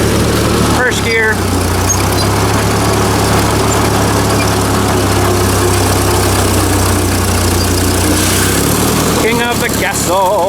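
A Ford 2N tractor engine runs in first gear with a steady low idling rumble and chug. Brief speech breaks in near the start and again at the end.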